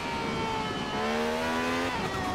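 A barn-find car upgraded to S2 class in Forza Horizon 4 revs up sharply, its high, screaming engine note climbing and then dropping back, loud and close with no talking.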